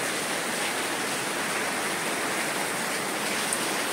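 Heavy rain falling steadily, a dense even hiss of downpour with no pauses, fairly close and uniform throughout, no voices.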